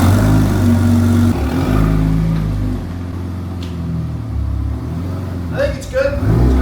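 A Porsche 911 Turbo idling unevenly in a garage driveway, its loud low engine note wavering and stumbling rather than holding steady, with a person speaking over it near the end.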